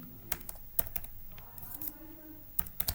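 Quick bursts of typing on a computer keyboard while entering a college name on a form, sharp close key clicks in short clusters with brief pauses between them.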